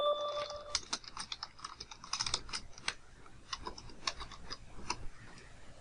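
Fingers type on a computer keyboard as a city is entered into a dispatch rate quote form, giving quiet, close, irregular clicks and taps with short pauses between bursts.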